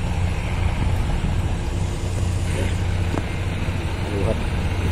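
A Mitsubishi Fuso truck rolls past on a road, a steady low engine rumble with traffic noise, while someone talks over it.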